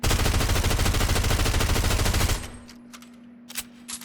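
Rapid automatic gunfire from a submachine gun, a loud continuous burst lasting about two seconds, then a few faint clicks and mechanical handling sounds.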